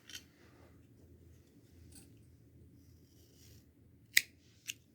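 Scissors snip through knitting yarn: two quick, crisp cuts near the end, close and clear over a quiet room hum.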